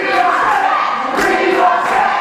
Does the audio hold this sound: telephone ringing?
no